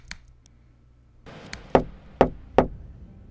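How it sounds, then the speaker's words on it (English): Door knock sound effect placed in audio editing software: a few faint taps, then three loud, evenly spaced wooden knocks ringing out close and alone. "And now the door has been knocked."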